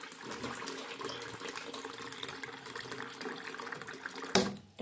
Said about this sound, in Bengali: চা বসাবো তার জন্য জল নিচ্ছি